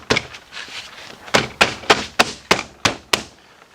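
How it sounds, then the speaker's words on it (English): Interior door panel on a Chevy Equinox or GMC Terrain being pushed back into place, a run of about nine sharp, close knocks and snaps in a rough rhythm after a few lighter taps. "push your door back into place"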